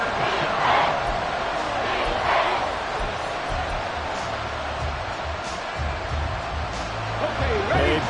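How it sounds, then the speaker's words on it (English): A football stadium crowd roars continuously in the background, swelling in a few places, while a voice talks over it. "Crowd on their feet."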